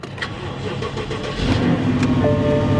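A car engine cranks and catches at an auction lot, then settles into a loud, rough running idle that may be misfiring, close by with a few faint clicks and no clear talk.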